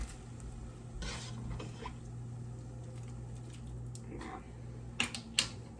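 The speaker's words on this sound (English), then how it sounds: "And then you want to keep stirring" Quiet scraping and stirring of rice in a pot with a soft steady sizzle underneath, a few light clinks of a utensil against metal near the end.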